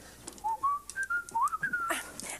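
Someone whistles a short, bright melody, a string of clear rising and sliding notes close by, ending with a soft rustle.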